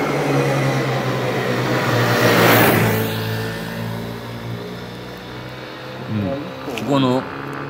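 A motorbike passes a tunnel entrance at night, its engine swelling to a loud whoosh and fading, while people talk close by throughout.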